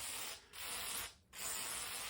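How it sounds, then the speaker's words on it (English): WD-40 is sprayed onto a SawStop table saw during restoration in three steady hissing bursts separated by two short pauses, close-up and fairly quiet, with no speech. "I'm just gonna hit it with a bunch of WD-40."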